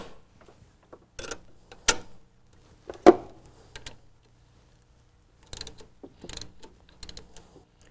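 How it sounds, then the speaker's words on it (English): Ratchet clicks in short, irregular bursts with quiet gaps between them, close by, plus a couple of sharper metallic knocks, while removing a damper pulley from a 1996 Buick engine. "Remove the existing damper and install the new inertia damper"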